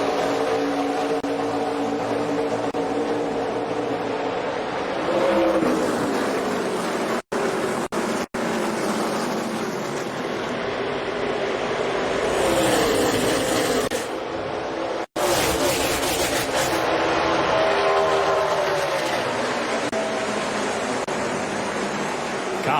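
NASCAR Xfinity Series stock cars race at Nashville, a steady loud roar of engines with a passing swell and brief dropouts, heard in a continuous broadcast-style wash of sound.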